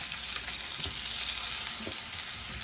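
A zucchini and tomato panini sizzles on a hot grill, a steady close crackling hiss with small pops running throughout, no talk.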